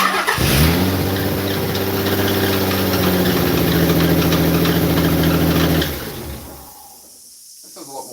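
A car engine under repair with new spark plugs fires up and runs at a high, steady rev for several seconds, loud and close, then drops away to near quiet.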